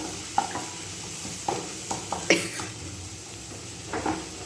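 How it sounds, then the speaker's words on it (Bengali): A spice mixture with a pinch of sugar, over fried onions, is stirred in a pan on the stove. Several distinct scraping strokes come over a soft, steady sizzle, close and fairly quiet. "এবার মশলাটাকে ভালো করে মিশিয়ে নেব"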